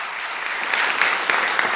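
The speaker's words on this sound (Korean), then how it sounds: "우리 박수로 우리 한번 환영하도록 하겠습니다" Church congregation clapping during a Sunday morning service to welcome new members, a short burst of loud, dense applause that swells slightly toward the end.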